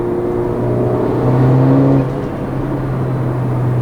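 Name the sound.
car turbo engine noises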